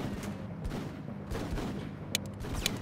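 Soldiers trading fire in the video game Full Spectrum Warrior: a sustained crackle of rifle and automatic bursts, several heavier shots punching through, ending in a pair of sharp close cracks.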